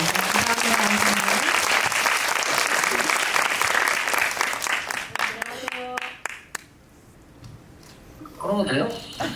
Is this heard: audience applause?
yes